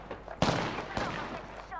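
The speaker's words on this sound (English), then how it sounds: "I'm taking shots." Gunfire in Apex Legends: two sharp shots about half a second apart over a low game ambience, with a brief in-game voice line following.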